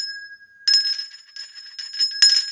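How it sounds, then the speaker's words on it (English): A small hand-rung victory bell gives a few bright, sharp rings in quick bursts over a few seconds, close and clear in a quiet room. "I ring my victory bell for my clients."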